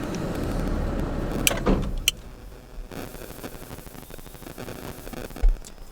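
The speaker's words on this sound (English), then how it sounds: "I just hit my winch button and my whole truck stalled out." A truck winch clicks on and the truck's engine stalls out in Ocala National Forest: a rumbling idle with sharp mechanical clunks, then the engine noise drops away to a quieter hum, with another clunk near the end.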